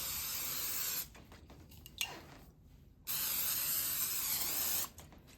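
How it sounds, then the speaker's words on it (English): Two bursts of aerosol olive oil spray hiss onto a 9x13 baking pan, each about a second or more long, separated by a pause, close to the microphone. "Now I'm going to spray my 9x13 pan with olive oil."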